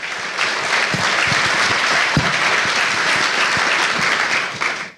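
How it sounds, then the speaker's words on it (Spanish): A conference crowd at the DF Live economic forum applauds after a presentation by Andrés Velasco, with steady, full clapping that fills the room and fades out at the end. "Partamos por darle un gran aplauso a Andrés Velasco."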